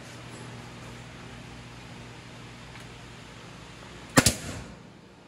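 A single sharp nail-gun shot into a historic wood window frame during assembly, a loud percussive crack followed by a quick second burst, standing out from a steady low fan-like hum in a quiet workshop.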